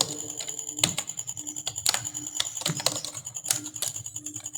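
Rapid typing on a computer keyboard while filling in an Excel data-entry form, with clustered key clacks in an uneven rhythm, close and clear against a faint background hum.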